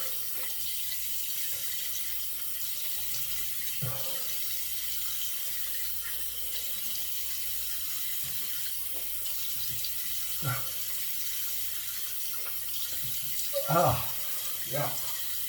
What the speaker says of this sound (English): let's give it a final rinse